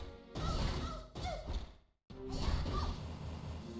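A smash attack in the Dragon Ball Origins video game lands as loud, harsh crashing bursts. A long whooshing impact is followed by a brief silence, then a second heavy crash.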